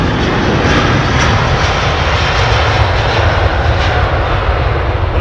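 Jet engines of an Airbus A330 at London Heathrow roar as a loud, steady, broadband drone that holds without a break and with no voices over it.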